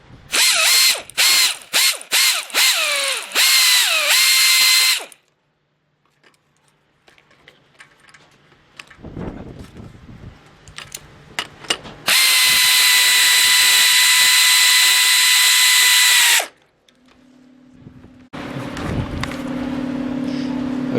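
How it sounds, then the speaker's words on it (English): Several loud, close bursts of an impact wrench spinning bolts snug during wind turbine assembly, rapid hammering rattles separated by quiet gaps and softer handling clicks. "we're actually going to use the impact wrench and spin a little, and that's tight enough"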